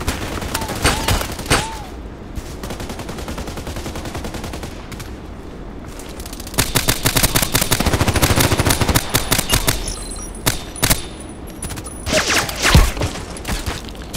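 Rapid gunfire from the shooter game Contract Wars on the map Site, an AS VAL with Kobra sight among the weapons: bursts and single shots crackle in dense clusters, loudest around the middle and end, with no talk over them.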